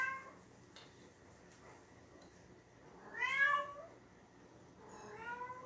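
A mother cat with four young kittens meows indoors, wanting to be let out: two drawn-out, rising-and-falling meows a couple of seconds apart, fairly close, with a quiet room behind and no talking.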